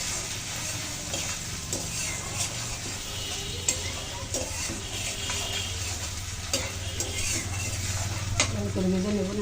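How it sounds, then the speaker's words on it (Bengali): Banana flower and potatoes fried with coconut in a pan, a steady sizzle broken by repeated spoon scrapes and light clinks against the metal, close, with a deeper rumbling hiss building near the end. "ভালো করে ভেজে নেব নারকেল দিয়ে।"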